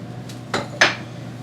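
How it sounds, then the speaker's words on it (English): A lid comes off a container in a home kitchen while meatloaf is being made, heard as two or three quick close clinks and clatters of hard material with a faint background hum. "Take that lid off before I start."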